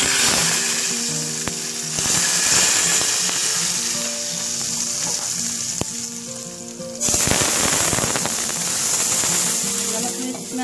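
Loud, steady sizzling as hot oil with browned cumin hits yogurt-soaked dahi pakoris, a crackling hiss that surges partway through and keeps going.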